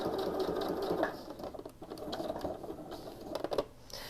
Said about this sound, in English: Don't want these threads to get caught up in the sewing,